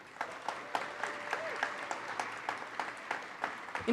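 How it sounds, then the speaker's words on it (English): A gathering at a Greater Boston Food Bank fundraising event applauds the food bank team, sparse, distinct claps from a modest crowd at moderate distance, with a faint tonal sound in the middle. "Huge applause to Team GBFB."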